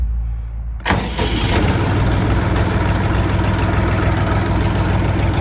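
Skout TY-254 tractor engine cranks over and catches after a short quiet moment, then settles into a steady, loud, close diesel idle that runs without a break.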